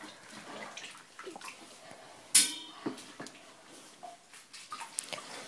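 Water in a bathtub while gaiters are washed and left to soak: faint, close sloshing and splashing with a few light clinks and one sharper knock, quiet overall.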